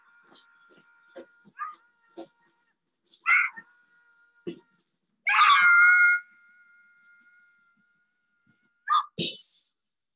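A singer screaming on an album: short sharp vocal cries and wails in separate bursts, with one long sustained scream in the middle and a final piercing shriek, set over a quiet background with faint tonal hum.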